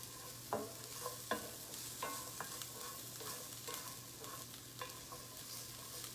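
Onions cooking in a pan to a translucent stage, with a steady sizzle beneath a few sharp utensil clinks and scrapes spaced through, fairly quiet overall.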